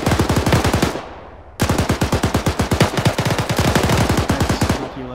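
Automatic gunfire in the Arma 3 military game, long rapid bursts of sharp, evenly spaced shots close and loud, broken by a short pause, then a second sustained burst.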